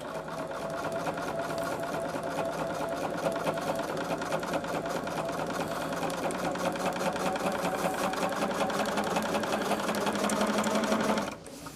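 A sewing machine stitches quilting fabric along a marked line to square up a throw, running as a steady, close mechanical whir for about eleven seconds before stopping abruptly.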